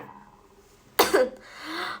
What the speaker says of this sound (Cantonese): 唔知點解我飲咗之後好似越嚟越咳啦。